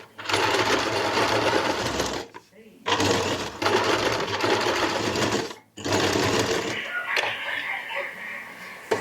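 A sewing machine gathers fabric in three bursts of fast, close, buzzing stitching separated by short pauses, with a voice heard faintly at times.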